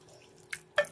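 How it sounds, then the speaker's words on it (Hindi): Liquid left from frying mushrooms and capsicum goes into a cooking pan as two quick, close drip-like splashes about a quarter second apart, with quiet background and no talking. "उसका पानी जो छूटा है वो भी हमने इसी में ऐड कर देना है।"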